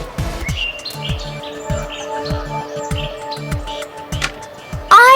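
Small cartoon birds chirp and tweet repeatedly in a rhythmic series of short calls, fairly close and clear, ending with a brief louder burst.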